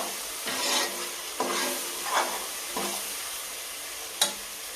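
Country chicken and tomato fry in oil in a pan, with a spoon stirring through it in several separate scrapes over a steady soft sizzle, ending in one sharp clack; no voices.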